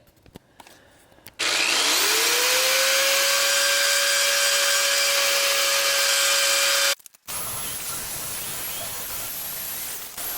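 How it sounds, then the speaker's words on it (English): A burr bit in a rotary power tool grinds a wagon wheel hub so it will fit. A loud, close, steady high-pitched whine runs for about five seconds, then cuts off to quieter handling noise. "I'll show you guys how I kind of use my burr bit and get this hub to fit."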